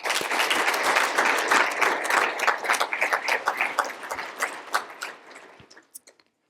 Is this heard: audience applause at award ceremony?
yes